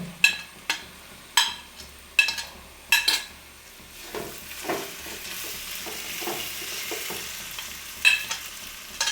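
Chili powder, ginger, garlic, onions and shallots stirred in a frying pan while preparing a pomfret fry masala: several sharp scraping stirs up front over a steady close sizzle, then continued frying with an occasional utensil clink.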